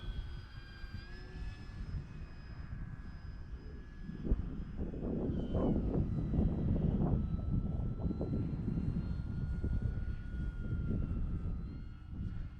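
A 1.2 m E-Flite T-28 radio-controlled model airplane on its maiden flight with gear down, its electric motor whining steadily overhead and swelling louder as it passes closer, with no talking.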